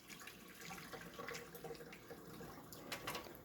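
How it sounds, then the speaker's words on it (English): Water poured off rinsed wheat grain in a container, a steady splashing and trickling stream with faint drips, continuous and close, with no voices. "the wheat is heavier than water, so you can just pour off the water"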